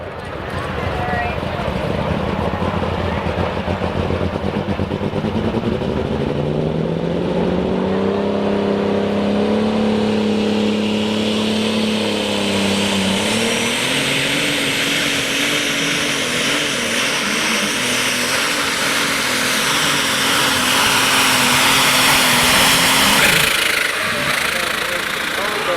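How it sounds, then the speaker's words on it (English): Pulling tractor at a truck and tractor pull, roaring continuously at full power with a rising, strained engine pitch that holds through the run; the din is loud and close, with an announcer talking over it. "The Patriot is a tough tractor."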